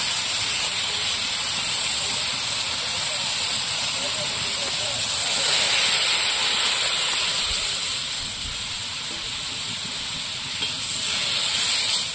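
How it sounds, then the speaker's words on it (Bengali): Mung dal poured into a hot pan of fried banana flower gives off a loud, steady hissing sizzle that runs unbroken and close throughout. "মোচাটা ভেজে নিয়েছি, এবার আমি ডালটা ঢেলে দেবো।"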